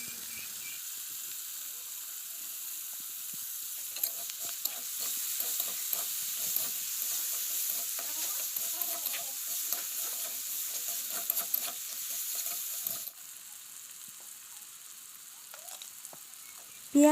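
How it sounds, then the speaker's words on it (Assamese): Onion, garlic, bay leaf and green chili fry in hot oil with a steady, soft sizzle and occasional crackles and stirring scrapes. The sizzle drops noticeably quieter partway through. "চেম তেলতে মই পিঁয়াজ, নহৰু, তেজপাত, কেঁচা জলকীয়া দি ভাজি ল'ম।"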